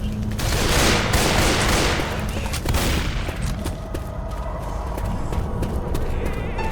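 Rapid gunfire in the zombie shooter Left 4 Dead 2 at a construction site, a dense loud fusillade of overlapping shots that fades into scattered pops, with brief game voices underneath.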